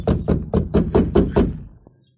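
Seven heavy, evenly spaced pounding knocks on a wooden door, a radio drama sound effect, land close and loud in a steady rhythm before a final faint thud and silence.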